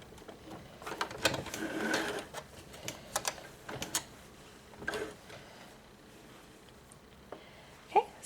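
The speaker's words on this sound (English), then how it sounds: "I'm going to do a couple back stitches to make sure that stays in place." A sewing machine back stitches a fleece cloth pad in short, uneven bursts of mechanical ticking and whirring, with scattered clicks and quiet gaps between runs, fairly faint and close by.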